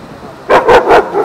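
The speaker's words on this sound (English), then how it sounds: "there's yeah, another dog." A dog gives three quick, loud barks close by in a rapid sequence, after a brief quiet lead-in.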